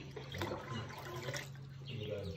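Water is poured steadily into a container as part of mixing homemade liquid soap, a continuous splashing flow heard up close with a faint voice in the background.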